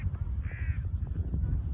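Crows caw a few times at mid distance over steady low outdoor rumble while birds are being fed in Victoria Park, London, a short harmonic call standing out from the background.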